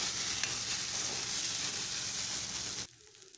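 Salty vermicelli with a little turmeric stir-fried over high flame, a dense, steady close sizzle with faint scraping from stirring, cutting off abruptly near the end into quiet.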